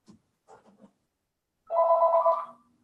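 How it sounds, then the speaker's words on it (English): An office telephone rings once in a sustained electronic trill, loud and close, right after a few brief spoken words. "And there goes my other phone."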